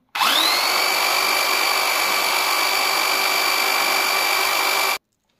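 A 220 V motor spins a coupled generator, rising almost instantly to a loud, steady high-pitched electric whine with strong tonal hum. It holds evenly for about five seconds, then stops abruptly, alone without talk.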